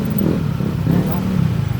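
Motorcycles pass along a busy city road near the bridge by the US Embassy on Roxas, a steady close engine drone with someone talking over it.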